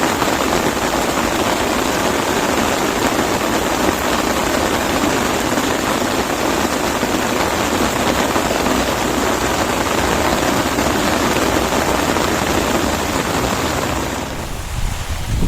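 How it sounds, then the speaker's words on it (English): Heavy rain and gusting wind blow onto a fishing umbrella at a UK pike fishing spot, giving a loud, constant roar and patter close to the microphone that eases slightly near the end. "Now it's right in my face, blowing all the rain under the brolly."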